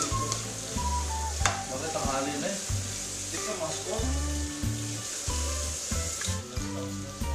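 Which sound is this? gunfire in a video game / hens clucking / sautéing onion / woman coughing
sautéing onion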